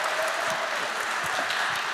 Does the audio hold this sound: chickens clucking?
no